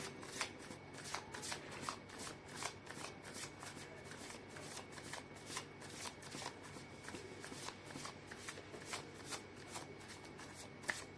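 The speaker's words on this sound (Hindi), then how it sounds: "मैं कर लेती हूँ कार्ड की शफलिंग।" Tarot cards being shuffled by hand for a reading, a quiet, steady series of crisp riffling bursts repeating at an even rhythm, close up, with no one speaking.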